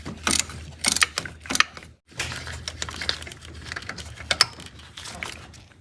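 Ratchet clicking on a 17 mm pivot bolt of a Toyota Corolla serpentine belt tensioner, rapid close metallic ratcheting in short bursts with a brief pause, no talk.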